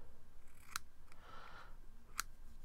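Scissors snip excess cotton wicking from a coil build on an Asylum Mods Sherman RTA V3, two sharp, close clicks about a second and a half apart over a quiet background.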